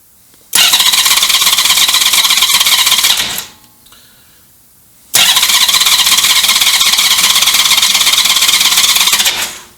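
A hydrolocked Honda Valkyrie motorcycle's starter cranks in two long grinding, squealing bursts, the engine turning over without firing, separated by a short pause.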